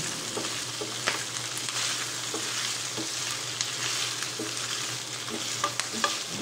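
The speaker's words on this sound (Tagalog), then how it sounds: "maglalagay ako dito ng konting oil para medyo mag-brown lang siya ng konti" Tofu and pork browning in olive oil in a pan give a steady, close sizzle, with light scraping and stirring clicks scattered through the continuous frying hiss.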